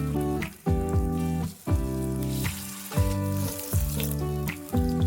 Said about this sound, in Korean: 팬에 식용유를 넣고 중약불로 가열하고 반죽을 숟가락으로 넣어줍니다.